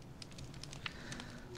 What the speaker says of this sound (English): See? Fireplace.